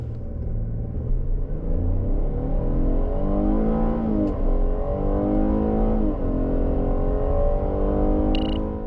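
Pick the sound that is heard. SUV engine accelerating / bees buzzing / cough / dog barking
SUV engine accelerating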